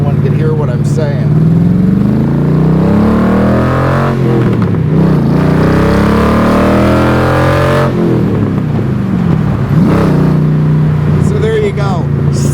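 A Shelby Cobra engine roars loud and close while driving, with rising and falling revs through gear changes and constant wind rush, and speech is faintly mixed in at times.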